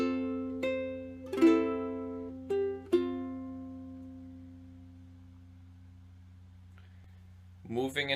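Ukulele fingerstyle phrase from Angels We Have Heard On High, picked slowly: a handful of plucked notes and two-note dyads including open C with a fretted E ring out and decay alone, close and clear, then a brief rustle.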